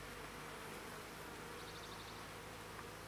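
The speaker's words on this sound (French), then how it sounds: "je vois qu'il y a beaucoup d'abeilles" Honeybees in a hive with an artificial swarm and a newly introduced mated queen produce a dense, steady buzzing that fills the whole stretch, close and continuous, with no voices.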